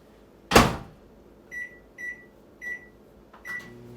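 Microwave oven cooking bacon on a plate under a splatter guard: one loud thud or door clunk, then four evenly spaced short beeps, faint and alone with no talk.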